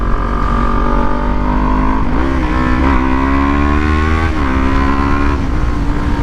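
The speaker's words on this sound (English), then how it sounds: "I got in front of him so he could hear the exhaust" A Kawasaki Ninja 400 KRT motorcycle's exhaust drones loudly and steadily up close, with rising and falling engine pitch as the throttle shifts through the ride.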